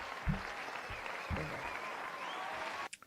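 A crowd claps in a steady round of applause from a small live audience, moderately loud and continuous, with a few voices and laughs rising briefly before it ends abruptly.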